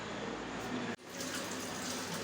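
Filtered water collected earlier pours steadily from a container for kneading dough in a home kitchen, a continuous splashing rush with one brief break partway through.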